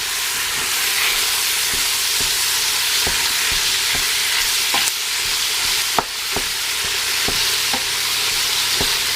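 Sausage meat browns in a pot for homemade pasta sauce, a loud, constant sizzle and hiss with occasional sharp stirring clicks and scrapes scattered throughout, no voices.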